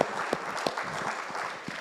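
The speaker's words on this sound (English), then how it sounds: "Yes, let's give him a round of applause." Brief burst of audience applause at a city budget public input session, a modest scattering of claps over a couple of seconds at low level.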